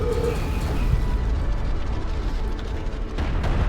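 Attack missile barrage explosions in the strategy game Homeworld: Deserts of Kharak, a dense continuous rumble of booms and blasts at steady high level, with no speech over it.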